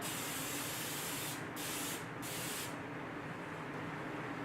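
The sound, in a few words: cooking spray sprayed onto baking dish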